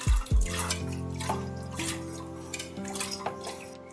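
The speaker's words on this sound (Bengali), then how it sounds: "দিয়ে দিলাম ধুয়ে রাখা ছোলার ডাল।" Rinsed chana dal is added to a clay pot with water for a vegetable-lentil dish: a sharp knock and a splash at the start, then soft wet drips and faint ringing pot tones, with no speech.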